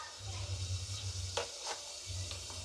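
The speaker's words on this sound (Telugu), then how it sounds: "ఈ ఆయిల్ వేడెక్కిన తర్వాత మనము ఇందులోకి ఆవాలు" Mustard seeds and cumin sizzling in hot oil, a faint steady hiss with a few sharp crackling pops, with soft background music underneath.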